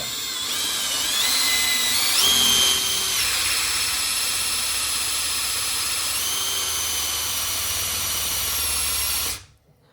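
A Milwaukee cordless drill bores into a Hammer Effect bowling ball, giving a loud, steady high whine with shifting pitch that lasts about nine seconds before cutting out abruptly. The drilling is close, with no talk over it.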